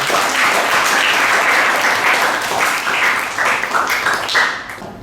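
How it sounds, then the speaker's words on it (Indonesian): Classroom applause from a group of students, loud and continuous dense clapping filling several seconds and tapering slightly near the end. "Tepuk tangan buat kita semuanya."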